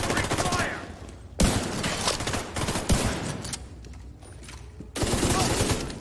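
Rapid bursts of automatic gunfire from The Division 2 rattle almost continuously, loud and close, with heavy volleys at the start and end and scattered shots between, while voices talk over the shooting.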